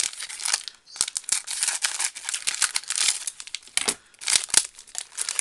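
Crinkly plastic packaging around lace being torn open and handled, a dense, continuous crackling and rustling close up with brief pauses and no talking.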